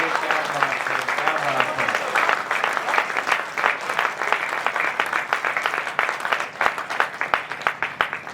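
An audience breaks into sustained, dense applause after a Hindi poetry recital by poet Gaurav Chauhan, with a voice briefly audible at the start before the clapping fills the room.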